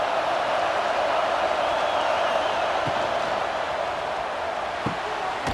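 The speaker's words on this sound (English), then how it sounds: "This crowd bringing the energy and noise early." A large crowd in a college football video game, Clemson vs Georgia, roars steadily throughout, a dense continuous wash of cheering with a couple of faint thuds underneath.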